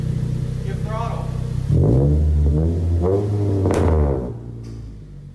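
A car engine revs up hard, its exhaust roaring through a couple of throttle blips before settling back to idle, with voices talking over it.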